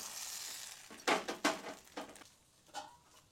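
Appam batter poured into a hot wok sizzles in several short bursts, close and fairly quiet, fading to a soft hiss with no voices.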